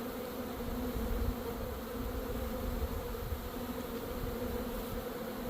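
Honeybees buzz at a hive during a new bee installation, a dense, continuous drone of many wings close by, steady in loudness throughout, with no speech.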